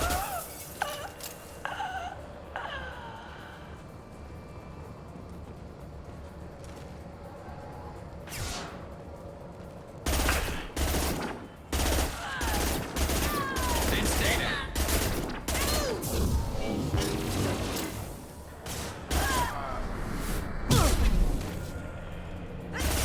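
Combat in Mass Effect 2 with gunfire and a concussive shot: bursts of shots and impacts, quieter at first and then dense and loud, with crashes layered over continuous battle noise.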